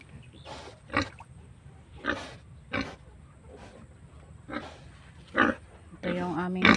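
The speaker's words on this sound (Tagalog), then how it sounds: "Ito yung aming barako." A native boar, a half-Duroc, half-native crossbreed, gives a series of short, loud grunts at irregular intervals, close by over a low background hum.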